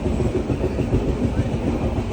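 The Kerala Express passenger train rumbles along the tracks, heard from inside, with a steady rhythmic clatter and a low, continuous roar.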